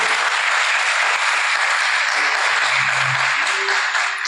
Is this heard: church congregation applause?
yes